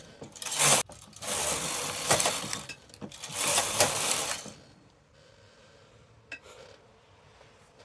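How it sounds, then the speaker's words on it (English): A Brother knitting machine knits rows, the carriage sliding across in loud rasping sweeps with clicks and clacks between passes, then quieter mechanical ticks as it settles. "Then I'm going to go ahead and knit few rows."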